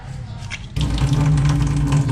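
Water runs steadily from a tap in a small outdoor dirty-kitchen area of a rental house in the Philippines, a strong, even gushing that swells suddenly partway through and then continues loud and unbroken.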